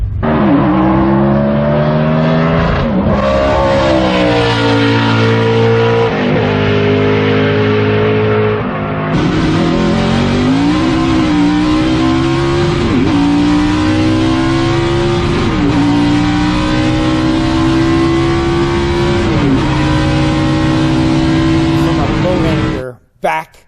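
Race car engine revving loud and close at the track, rising and falling through repeated gear changes for over twenty seconds, then cutting off abruptly; a voice talks over it.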